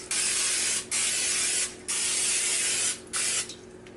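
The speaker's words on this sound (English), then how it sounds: "we're gonna get some Pam butter spray, and then we're gonna spray it down." Four long hissing bursts of Pam butter cooking spray onto a baking tray, each lasting about a second with short pauses between, close and steady.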